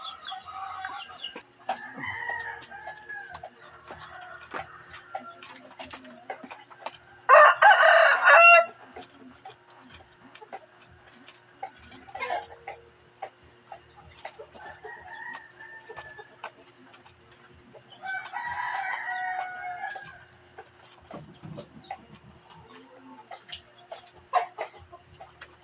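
Roosters crow and hens cluck at feeding time on a backyard poultry farm, with one loud, close crow standing out and another crow later, over scattered clucking and ambient farm noise.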